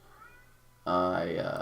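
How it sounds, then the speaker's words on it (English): A pet cat lets out a loud, drawn-out meow from nearby, breaking in sharply after a quiet stretch with a brief spoken word. "if you can hear my cat in the background"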